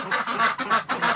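Ducks in a crowded enclosure, stressed and restless with cabin fever, quack in a loud, continuous overlapping chorus of nasal calls close by.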